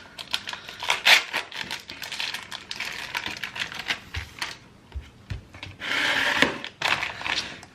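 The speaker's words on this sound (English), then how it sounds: "I'm just gonna take some scissors and cut this open." Scissors cut open a plastic sausage package in a kitchen; close, crisp snips and crinkling plastic come in uneven bursts with a fuller rustle near the end, and no one talks.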